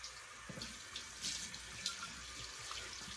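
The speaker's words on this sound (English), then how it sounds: "Open up the floodgates to the cold water." Cold well water from a Central Texas home pours steadily from a bathroom tap into a sink, a constant close splashing hiss with no voices.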